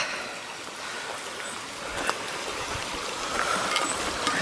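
A stream flows along Hodders Combe with a soft, steady trickle and babble, fairly distant, under open outdoor air with a couple of faint knocks.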